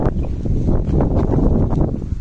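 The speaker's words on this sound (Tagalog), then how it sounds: "sobrang hangin kasi." Strong gusty wind roars against the microphone in continuous rumbling bursts, loud and close, with no voices.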